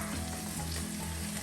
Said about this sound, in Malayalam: ഉള്ളിയൊക്കെ ഒരുവിധം നന്നായി വഴണ്ടിട്ടുണ്ട്.